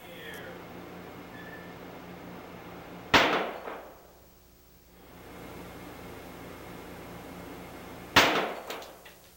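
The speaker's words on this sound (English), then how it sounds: "There were 3 shots fired, none of them penetrating the glass." .38 Special rounds strike half-inch glass treated with 12mm safety film: two sharp, loud impacts a few seconds apart, each a cracking bang with a brief ringing decay over steady background noise.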